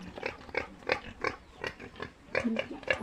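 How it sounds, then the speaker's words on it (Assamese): Two pigs on a small piggery farm grunt repeatedly in short, rhythmic bursts, close by and fairly quiet, with overlapping snorts toward the end and no speech. "মোৰ গাহৰি দুটা আছে"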